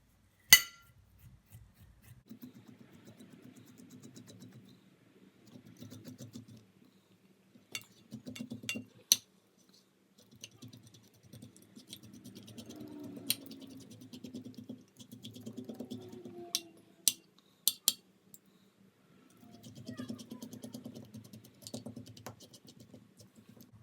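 A metal spoon scrapes fresh aloe vera gel out of a cut leaf, close up and fairly quiet, in short bursts of soft scraping with light clicks and clinks against the dish between them.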